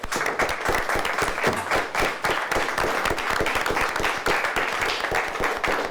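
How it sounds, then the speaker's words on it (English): Loud, sustained applause from a studio audience for a quiz show team, many hands clapping in a thick, even roar that holds steady for several seconds with no talking over it. "Nice round of applause for Mackinac City."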